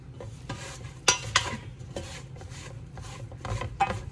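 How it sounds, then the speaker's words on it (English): Chopped chili ingredients get stirred through spices and hot oil in a pan, giving irregular scraping and rasping strokes with a soft sizzle underneath and a couple of sharper utensil knocks. "I move it around in those spices and in that oil, so it just starts to get really aromatic"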